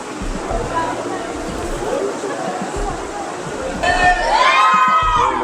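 A dense crowd of devotees murmurs and chatters at Jeen Mata temple in Rajasthan, a steady wash of many voices with some louder shouts rising near the end.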